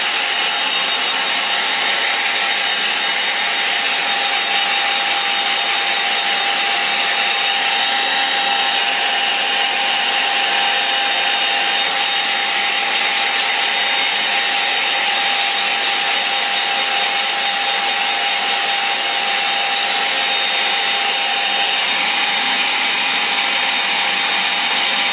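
A hair dryer blows steadily on a wet oil or acrylic painting, a loud continuous whirring hiss that holds unchanged for the full duration with no talk.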